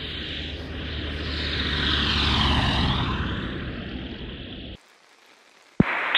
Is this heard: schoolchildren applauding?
no